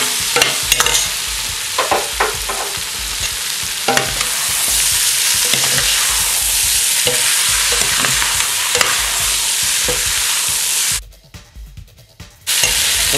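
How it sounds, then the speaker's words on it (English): Onions and venison browning in a pan for a Hungarian goulash, a loud continuous sizzle and hiss with stirring scrapes and clatters, close up, dropping briefly quiet near the end before the sizzle returns. "now we're going to just brown up the onions nice. We'll add this meat back in."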